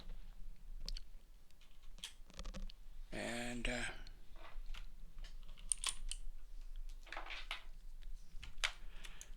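Keys on a computer keyboard click and tap in scattered bursts close up, while someone talks over the typing now and then.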